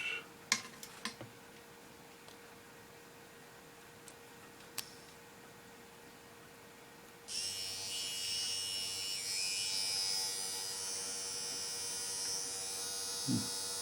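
Small electric motor of a fan-generator setup, powered from a supply unit, starts after a few clicks and spins with a steady high whine and hum, close and continuous for the rest of the clip.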